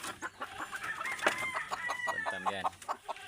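Bantam chickens in a flock of labuyo junglefowl cluck close by, a busy run of short overlapping clucks and squawks with one higher drawn-out call in the middle.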